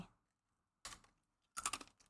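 Sesame wafer crackers crunch close up in two brief crisp bites separated by a pause, quiet overall with a silent room between them.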